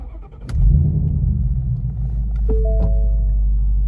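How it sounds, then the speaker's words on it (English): A Ford car engine is shut off and restarted: a sharp click, then the starter catching and a loud low rumble settling into a steady idle, with brief electronic chimes near the end. "shut the car off and then restart the car and see if I get the message this time"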